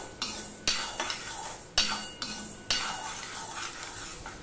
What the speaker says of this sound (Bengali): মুগ ডালটা খুব একটা কড়া করে ভাজবো না, হালকা করে মুগ ডালটা ভেজে নেব।